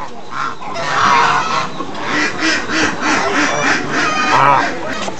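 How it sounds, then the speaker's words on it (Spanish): A goose honks repeatedly at close range, its loud nasal calls coming in bursts with brief pauses between them. "Hola, señor Ganso"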